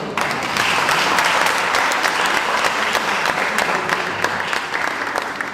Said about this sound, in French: On peut applaudir à chaque fois.